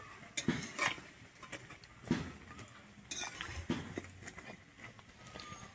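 A spatula turns frying food in a pan, giving a few sharp metallic scrapes and clinks at irregular intervals over a quiet background sizzle, close but fairly soft.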